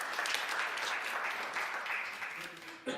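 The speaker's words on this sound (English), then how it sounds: "If we can please give him a round of applause." Audience at a panel event applauding a guest, a steady wash of many hands clapping that holds for about three seconds before cutting off.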